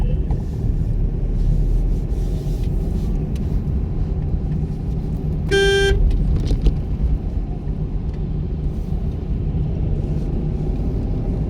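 A car engine hums steadily as the vehicle is driven during a driving lesson with gear changes from second toward third, low rumbling road noise throughout and a brief shift-like change partway through.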